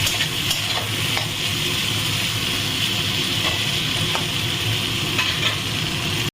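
Chopped raw Fazli mango with a pinch of turmeric being stirred and fried in a pan, giving a steady, loud sizzle throughout with occasional scrapes of the spoon, no voices.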